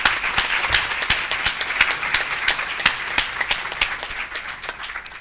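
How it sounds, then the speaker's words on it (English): Applause from a conference audience after a speaker is introduced, a steady wash of many hands clapping with some sharper individual claps standing out, fairly close and sustained throughout. "So let's give her a big round of applause."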